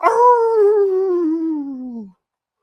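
A wolf's single long howl rings out loud and clear, a sustained tonal cry slowly falling in pitch for about two seconds before cutting to silence.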